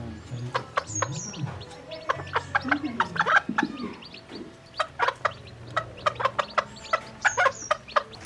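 Village chickens, a hen with her chicks, cluck and cheep close by in a rapid scatter of short calls, with a few lower clucks and soft background noise.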